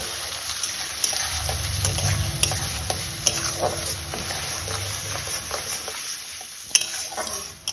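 Ground spice paste sautéing in a pan for a paneer dish, a steady close sizzle with scraping stirs and occasional spoon taps against the pan.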